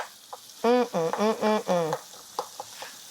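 Fresh tomato sauce cooks in a pan, a steady sizzle running beneath a few seconds of squeaky, rhythmic pressing sounds as the tomatoes are pushed down, then quieter scattered ticks and bubbling toward the end.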